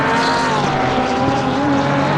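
Front-engine, rear-drive race cars lapping the Barcelona circuit in a racing video game, a loud continuous engine drone with shifting pitch, several cars running close together, with no talk over it.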